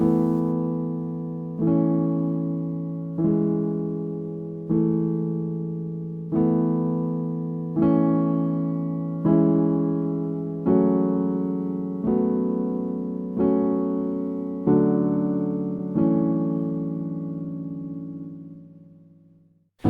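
Piano chords struck one after another at a steady, even pace, each ringing out before the next, with the last chord fading away at the end.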